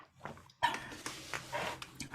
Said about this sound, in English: Puppies are always allowed, Alexander, in my world, just so you know.